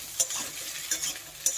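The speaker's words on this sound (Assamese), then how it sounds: "এইটো চাওক মোৰ আলুটো কেনেকৈ ভাজা, পুৰা ভালকৈ ভাজা হৈ গৈছে।" Potatoes with a little turmeric fry in a pan, giving a soft steady sizzle broken by a few sharp scraping stirs, close and fairly quiet, with no one talking.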